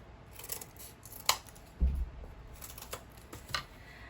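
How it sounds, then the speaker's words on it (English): Scissors cutting random foam squares for texture stamps, a few short crisp snips and rustles spaced irregularly, close and fairly quiet. "And I just cut these random squares."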